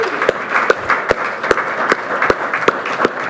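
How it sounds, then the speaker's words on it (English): An audience at a Renfrew County Ontario Winter Games legacy fund announcement applauds steadily. Several sharp, distinct claps stand out near the front over a thinner spread of clapping. "Can we just get a round of applause?"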